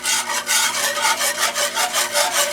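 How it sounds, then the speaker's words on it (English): Rapid rhythmic scraping of a whisk through milk gravy in an iron skillet, loud and close, with regular back-and-forth strokes and no voices. "And continue whisking."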